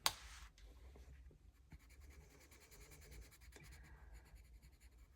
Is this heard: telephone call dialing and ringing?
no